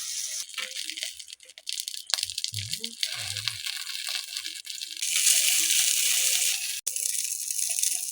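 Banana flower paturi parcels frying in a pan in a village kitchen, giving a steady close hiss and sizzle throughout, with brief clatters and crackles, no talking.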